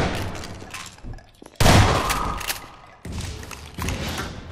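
Grenades going off in Half-Life 2 Episode 2, two heavy booming blasts a little over a second apart, each bursting loud and then rumbling away, with a softer thud before them.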